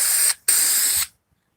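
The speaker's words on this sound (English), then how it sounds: "so now we have the outer edges sprayed" A spray gun applying stain to the outer edges of wooden cabinet doors and drawers, two close, loud hissing bursts with a short gap between, then silence.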